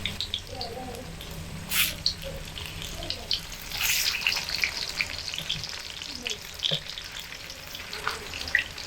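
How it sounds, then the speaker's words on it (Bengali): Puli pitha frying in hot oil as the dumplings are flipped over, with a steady bubbling sizzle and a few sharper splashes and clinks, while a voice talks over it. "এবার পুলিগুলোকে একটু উল্টে দিচ্ছি যাতে করে অপর পিঠটাও সমানভাবে ভাজা হয়।"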